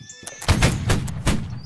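Cannon fire in the Holdfast: Nations at War line battle, several loud booming blasts in quick succession over about two seconds, close and heavy, with a faint voice in the background.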